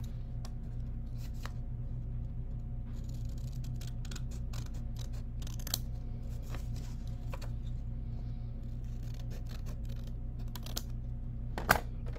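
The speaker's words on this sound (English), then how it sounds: "So, I'm cutting the bottom left square here." Scissors snip through folded paper for a corner bookmark in a quiet room, a scattered series of short sharp cuts over a low steady hum.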